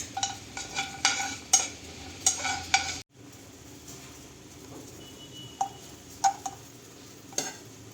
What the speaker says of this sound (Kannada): ದ್ರಾಕ್ಷಿ ಗೋಡಂಬಿ ಫ್ರೈ ಮಾಡ್ಕೊಂಡು ತೊಗೊಂಬಿಡೋಣ